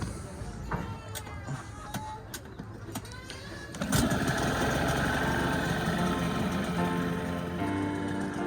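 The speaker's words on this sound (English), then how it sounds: "Okay, time to start this engine up." A boat engine coughs and catches around the midpoint, then settles into a steady, loud idle with a continuous rumble, after some clicks and handling noises, at Khlong Bang Luang floating market in Bangkok, Thailand.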